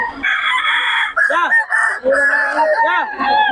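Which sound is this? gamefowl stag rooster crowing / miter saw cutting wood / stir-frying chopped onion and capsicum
gamefowl stag rooster crowing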